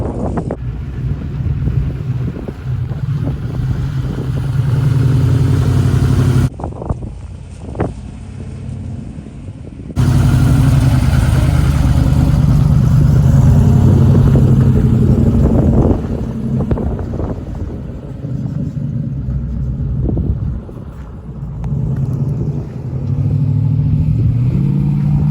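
Rock crawler engine pulling away on a test drive, a steady loud drone that drops off briefly then comes back revving and surging, with wind buffeting the microphone throughout.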